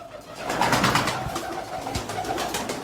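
Racing pigeons coo repeatedly in soft, throaty bursts, close by, with a constant airy background hum.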